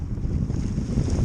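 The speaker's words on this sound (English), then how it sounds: "As you can tell, it's pretty windy." Strong, gusty wind roars across a microphone on a bridge over cold, choppy water, a dense low rumble that fills the whole moment with no voices.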